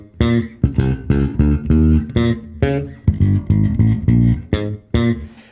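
A bass guitar plays a riff with a hard, heavy attack, the way one digs in when playing unamplified; punchy repeated notes come in short grouped phrases, close and loud, with no talking.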